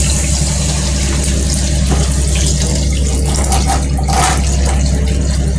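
A steady, continuous stream of water pours loudly into a cooking pot, running without a break from start to finish.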